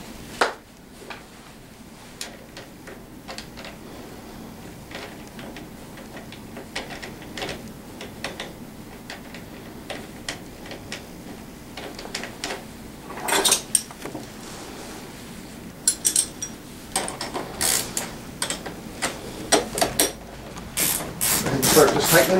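A ratchet tightens a bolt while a Tao Tao 50 T3 scooter is assembled, giving bursts of sharp, close clicking over a low background that become denser and louder toward the end.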